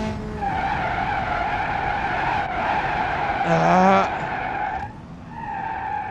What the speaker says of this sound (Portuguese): Travou as rodas, é bom de freio